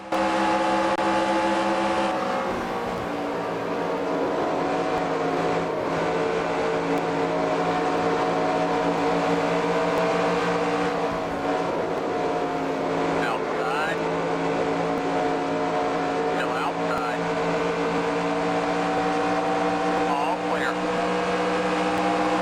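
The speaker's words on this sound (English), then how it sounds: "Let's go make a move on Jeff Gordon." A NASCAR Racing 2003 stock car engine drones steadily at high revs for the whole stretch, loud and continuous, with a brief dip early on and occasional talking over it.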